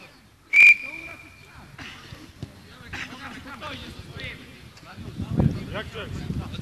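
A referee's whistle ends an amateur over-30 football match with one sharp, loud, sustained blast of about a second. Wind noise, scattered outdoor sounds and voices follow.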